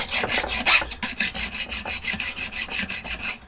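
A flat hand file rasps across chainsaw cutting teeth in rapid, even back-and-forth strokes, about five per second, close and steady with no talking.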